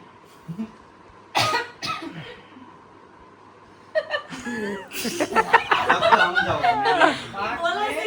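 A few sharp coughs ring out, followed by chuckling and lively voices talking over one another.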